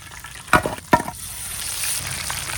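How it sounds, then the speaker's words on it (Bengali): Batter-coated prawns for tempura dropped into hot oil, two sharp splashy plops followed by a steady close sizzle that builds and holds. "এখন এই চিংড়ি মাছ ব্যাটারে চুবাইয়া ভাজতে হইবে"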